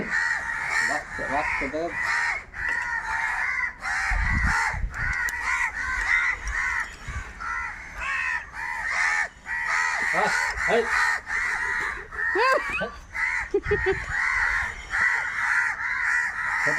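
Crows caw repeatedly and loudly nearby, harsh overlapping calls in quick bursts, while people talk underneath.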